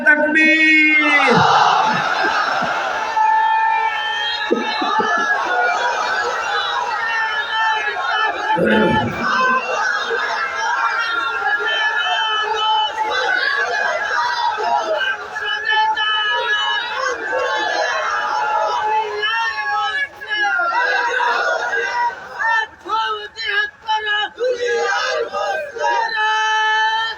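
A large crowd at a religious gathering roars the takbir chant in unison, loud massed voices rising and falling in repeated shouted waves.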